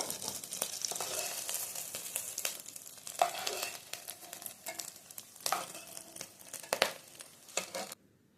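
Potato pakoras coated in rice flour fry in hot oil, giving a steady close crackling sizzle with sharper pops and bursts scattered throughout, which stops abruptly near the end.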